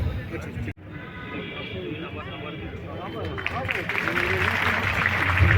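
An audience applauds to welcome a guest at the Bhagalpur festival, the clapping swelling steadily louder over a crowd murmur after a brief cut near the start.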